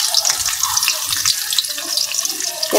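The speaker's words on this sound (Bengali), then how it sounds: "প্রথমে লড়াটা গরম করে নিছি, এখন এটার মধ্যে পেঁয়াজ কুচিটা দিলাম" Chopped onion hitting a hot pan for a Bangladeshi koi fish curry, giving a loud, steady hissing sizzle with no one talking.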